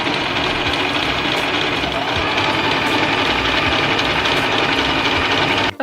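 Sewing machine stitching the edges and trims of a patchwork top, a loud, close, continuous mechanical whir with a fast steady rattle that cuts off abruptly at the end.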